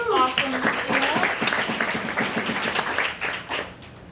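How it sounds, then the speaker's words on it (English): An audience at a comedy and social media meetup applauds a rapper with distinct, close hand claps, while a voice talks over the start and the clapping thins out toward the end. "Give a round of applause for our rapper."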